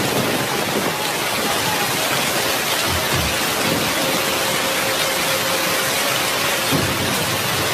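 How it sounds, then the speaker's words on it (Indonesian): Heavy rain driven by wind, a dense, loud and constant downpour hissing on leaves and surfaces, with a faint low rumble underneath and no voices. "breg bae hujan badag naker dibarung ku angin ngaglebug anu nebak dangdaunan"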